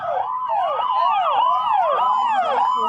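A police siren clearing the crowd at India Gate wails loudly and close by, its pitch sweeping up and down in rapid repeating cycles for the whole moment, with no voices over it.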